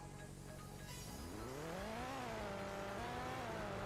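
A McLaren in the Roblox game Car Crushers 2 accelerates from a standstill, its engine note climbing steadily in pitch through rising revs with a brief shift dip, loud and continuous, with no talking.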